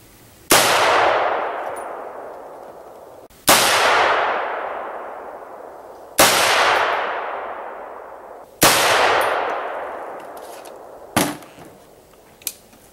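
A DPMS Panther Arms AR-10 rifle firing 7.62 rounds outdoors: four loud, evenly spaced single shots, each with a long ringing, echoing decay, followed by a couple of fainter metallic clinks.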